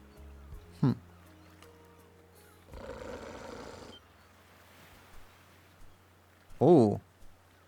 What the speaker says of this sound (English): Okay, that's a weird beast. Like a smooth jackal.